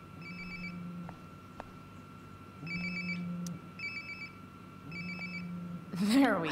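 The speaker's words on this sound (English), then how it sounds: "It sounds like my phone is definitely nearby." A phone rings in the video game Life is Strange: Before the Storm, three repeated electronic ring bursts with a steady rhythm and moderate loudness over a low background hum, with no talk.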